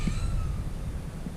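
A pet cat meows softly indoors, a short drawn-out call near the start that fades over a steady low room rumble, with no talking.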